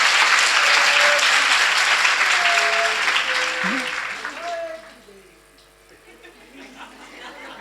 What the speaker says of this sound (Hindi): आप सबकी तालियां, उत्साह है